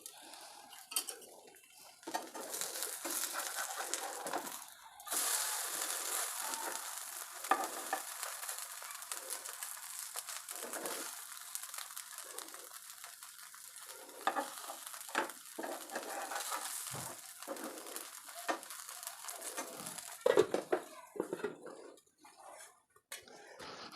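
An oats paratha cooks under a lid in a pan on low heat, with a soft, steady sizzle broken by scattered clinks and clatters of utensils and dishes nearby.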